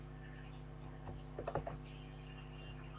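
A short burst of quiet keystrokes on a computer keyboard while coding, a few clustered clicks near the middle over a steady low hum, with no talk.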